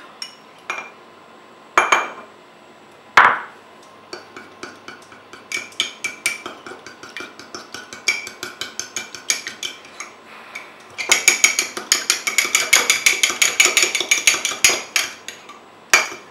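A spoon stirs mug cake batter inside a mug, making rapid clinking taps against the ceramic. It starts with a few scattered knocks, then builds into quick rhythmic scraping and clinking that grows busier toward the end, with no talk.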